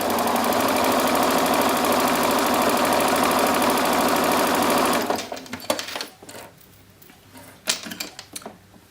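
Sewing machine stitching through several layers of fabric for a small blue dress, a loud steady fast whirr for about five seconds that stops, followed by fainter handling clicks and rustles.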